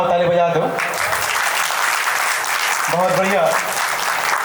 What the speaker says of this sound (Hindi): मैं चाहता था एक बार सम्मान और ताली बजा दो